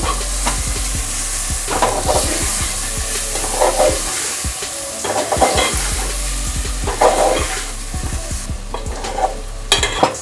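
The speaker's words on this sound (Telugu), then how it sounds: "ఇప్పుడు ఒక 5 మినిట్స్ వరకు ఆయిల్లోనే ఎగ్స్ని ఇలాగా కలుపుకుందాము." Eggs fry in hot oil for an egg curry while a spoon stirs them, giving a loud continuous sizzle broken by repeated scraping stirs against the pan, close up and with no talking.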